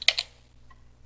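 A short burst of keystrokes on a computer keyboard while entering a Linux yum install command, a quick cluster of clicks near the start followed by a faint tap, close and alone.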